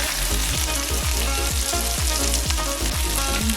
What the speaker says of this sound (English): Now we have 2 more fish to fry.